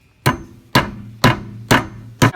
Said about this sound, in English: put a nail through the other hole that you made a minute ago and just hammer it in as before.